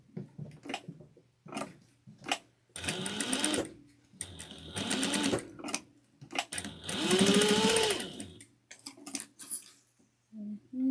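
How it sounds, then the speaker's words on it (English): A domestic sewing machine top stitching fabric in place, running in several short and longer bursts of close, steady mechanical whirring separated by brief pauses and light handling clicks. "And then we're going to top stitch that"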